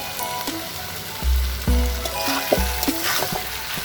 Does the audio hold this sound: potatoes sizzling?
yes